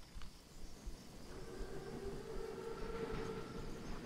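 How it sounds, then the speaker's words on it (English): Armored train in the World War II shooter game Call of Duty WWII, a steady low rumble of rolling wheels and carriages with a faint rising tonal whine, continuous and moderately distant, with no voices. "Train's right on time."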